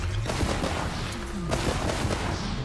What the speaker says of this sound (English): Good shooting, Cal. 10 out of 10